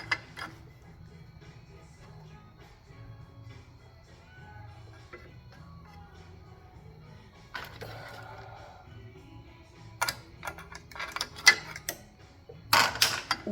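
Metal clutch plates and friction discs from a 1961 Harley FL are handled on a garage bench. Soft clinks and ticks are faint at first, then sharper metallic clacks and rattles come in short clusters toward the end, over a low background hum.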